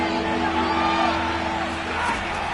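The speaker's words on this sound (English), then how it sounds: "Crowd getting in it a bit already." A packed football stadium crowd cheers during an NFL game, a steady, dense roar with rising whoops that fills the whole stretch without letting up.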